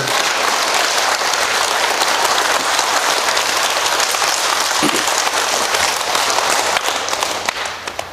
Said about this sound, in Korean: 물 먹을 시간을 기다리는 저를 위해서 박수하면서